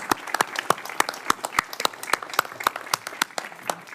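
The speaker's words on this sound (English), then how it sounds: "Start the applause." A small group claps steadily for a few seconds at a Senate Judiciary Committee hearing, sharp hand claps in a quick irregular rhythm, fairly close and loud, with no speech over it.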